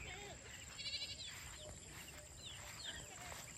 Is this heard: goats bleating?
yes